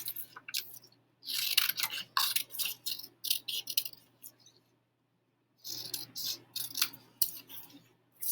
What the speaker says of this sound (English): I'm just going to trim it up so it fits a little bit better on the page